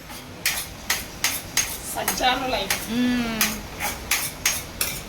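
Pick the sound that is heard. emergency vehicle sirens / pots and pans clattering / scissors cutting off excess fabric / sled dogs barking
pots and pans clattering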